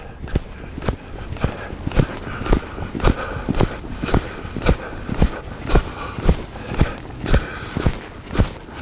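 A horse trots over ground with an even, rhythmic series of clear hoof thuds, about one and a half beats per second, close by and fairly loud.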